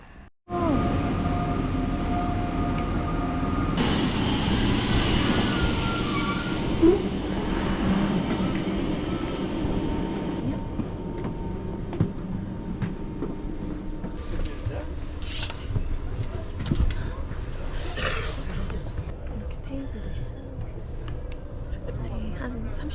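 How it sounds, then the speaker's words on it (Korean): Steady rumble of an express train heading to Paris, running continuously from start to end with a louder stretch early on, with people talking over it. "그래서 저도 여기서 처음 타보는데 음, 급행 기차 타고 갈 겁니다"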